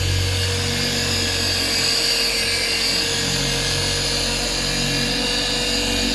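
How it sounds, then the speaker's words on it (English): Steady, loud abrasive whirring of a sander wet sanding car paint on a 1979 Mercedes 300SD, a constant grinding hiss with no pauses. "this is called wet sanding or color sanding"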